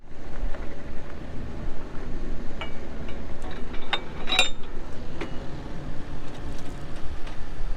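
A machine engine idling steadily after losing its throttle, a constant low rumble with faint metallic clinks and ticks over it, close and moderately loud, with no talking.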